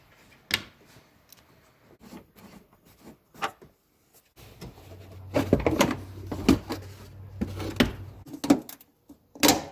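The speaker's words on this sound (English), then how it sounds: "So in the trunk here, you want to remove each of these clips." Plastic trim clips being pried out inside a Ford Taurus trunk, a series of short clicks, snaps and scraping knocks close by, sparse at first and then busier with rubbing and thuds.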